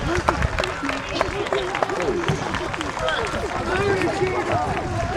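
Crowd at the 2014 Bosworth battle reenactment cheering the victor: a dense wash of shouts, whoops and clapping that swells and stays loud throughout, with voices layered in.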